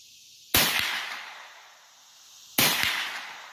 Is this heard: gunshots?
yes